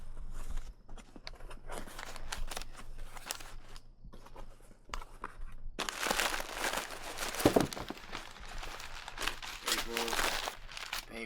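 Packing paper crinkles and rustles in close handling while a box is unpacked, with scattered crunches and a louder burst of crumpling midway, under occasional talk.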